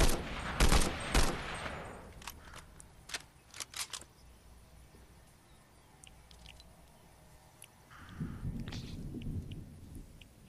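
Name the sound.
gunfire from an assault rifle in Fortnite, a video game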